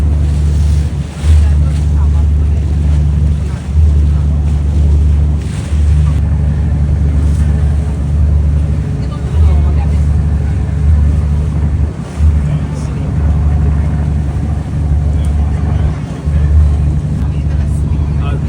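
Ferry ride between Pattaya and Koh Samet: a steady low engine drone and rushing water with wind buffeting the microphone, continuous and loud throughout, with no talking.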